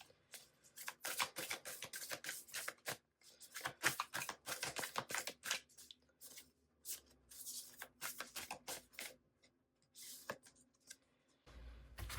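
Tarot cards being shuffled and drawn during a reading: quick bursts of crisp riffling and flicking, close and fairly quiet, with short pauses between runs of shuffling.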